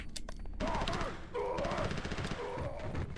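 Rapid gunfire in Mortal Kombat: Special Forces, rattling bursts of shots fired close and loud in quick succession with a brief pause between volleys.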